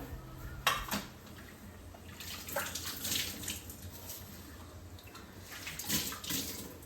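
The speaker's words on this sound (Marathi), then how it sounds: "सगळ्यात आधी मी कोथिंबीर हिरव्या मिरच्या धुवून घेते स्वच्छ" Coriander and green chillies are rinsed under running water, a continuous close splashing stream with occasional louder gushes and light clinks from handling.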